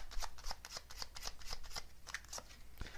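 Tarot cards being shuffled by hand, a series of quick riffling and slapping bursts in an uneven rhythm, close and fairly quiet with no talking.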